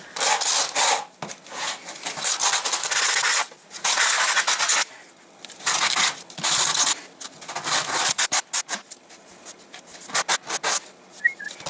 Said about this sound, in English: now I'm gonna sand it. I'm using conventional sandpaper